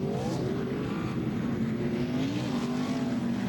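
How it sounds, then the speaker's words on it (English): NASCAR Xfinity race car engines rev at the Mid-Ohio road course, a loud, sustained droning roar with wavering pitch as several cars rumble together. "And you can hear them revving them up, DJ."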